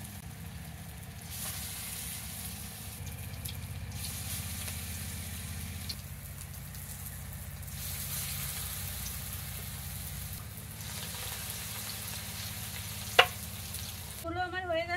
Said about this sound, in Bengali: তেলের উপরে এইভাবে বড়াগুলোকে সাজিয়ে সাজিয়ে দিতে হবে।